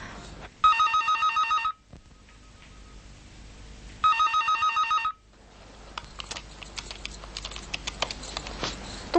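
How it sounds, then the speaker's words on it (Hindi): A telephone rings twice in short trilling bursts with a pause between, followed by light keyboard typing. "फोन तो उठाओ जरा।"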